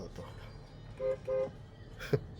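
A Land Rover Range Rover Sport Autobiography (L320) horn gives two short honks in quick succession amid road noise and chatter, followed by a brief knock.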